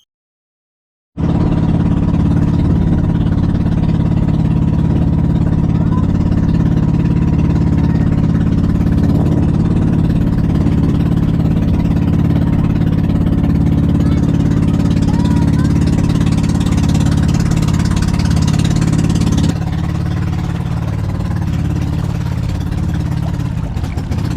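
A loud, continuous drone of many boat engines during a festival boat parade in Borongan runs throughout, steady and rumbling, with the motor noise shifting slightly near the end.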